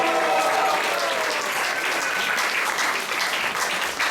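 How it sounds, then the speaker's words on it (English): A congregation claps loudly and continuously at a Sunday class in the ISKCON temple in Atlanta, a thick, even burst of applause that lasts the whole moment without speech over it. "So let's give a round of applause for this wonderful Guru."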